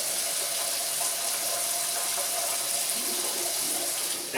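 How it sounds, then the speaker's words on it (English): Water pours steadily off a pot while cooking lasagna, a continuous broadband splashing rush with no pauses, close and fairly loud, no talking. "I pour off most of the water."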